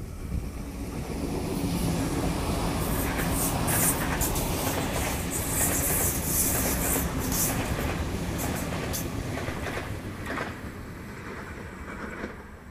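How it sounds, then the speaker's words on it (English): A Waratah electric passenger train on the T1 line rumbles steadily past Croydon station in Sydney, a loud sustained roar with rattling wheels and faint high squeals, easing off toward the end. "Here we've got a Waratah passing, Central Service."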